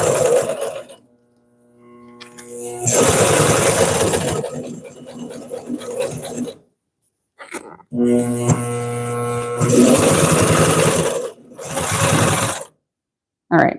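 A Consew CP206RL industrial sewing machine stitching a leather handbag, running in steady humming bursts several seconds long, separated by short pauses, close and loud, with a person speaking now and then.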